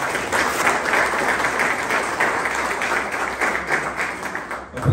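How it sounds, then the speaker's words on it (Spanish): Sustained audience applause at a judicial event of the Poder Judicial del Estado de Querétaro, a dense, steady roar of clapping hands that holds evenly and close for about five seconds. "Un aplauso para usted."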